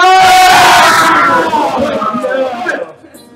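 Loud crowd of game-show audience members cheering and yelling together at a live-streamed game show, a dense roar that swells at once and then tapers off as voices trail away.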